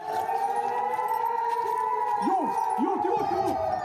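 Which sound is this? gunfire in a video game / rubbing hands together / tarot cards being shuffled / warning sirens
warning sirens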